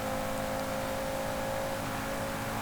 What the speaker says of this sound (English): this actually isn't a 4-cylinder, it's the 5-cylinder, I believe